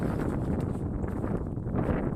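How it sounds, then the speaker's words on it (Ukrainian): Wind gusts buffet the microphone in a continuous low rumble, loud and close, with faint rustling mixed in. "Піднявся вітер"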